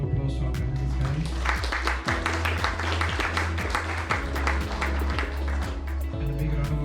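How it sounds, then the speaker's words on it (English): Audience clapping for panelists at an AI community meetup, a scattered round of hands over a steady low hum and background music, with voices mixed in. "Big round of applause to our panelists, guys."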